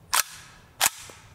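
Two sharp, clipped shots from a suppressed rifle firing subsonic 7.62x39mm 220-grain lead round-nose rounds, roughly 0.7 seconds apart, close and punchy with quick decay and no talking.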